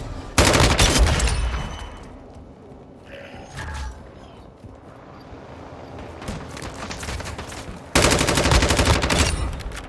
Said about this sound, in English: You can literally shoot full auto.